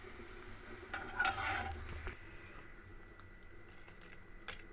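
Crispy jute leaf fritters fry in oil with a faint, steady sizzle, heard alone and growing slightly louder for a moment near the start.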